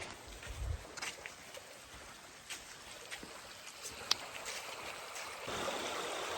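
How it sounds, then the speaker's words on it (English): A creek runs near a campsite with a steady, soft, hissing babble of flowing water. It is distant and continuous, with a few faint clicks and knocks on top. "Just creek running all night. That is what we heard."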